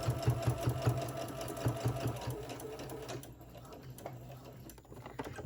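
A sewing machine runs slowly, stitching across the held pleats of a decorative fabric face mask in short, even mechanical bursts, close and moderately loud.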